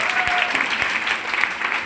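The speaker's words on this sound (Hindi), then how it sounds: "एक बार ताली होनी चाहिए" An audience at a live program claps for a guest, a dense, even burst of applause lasting about two seconds, with a voice faintly audible underneath.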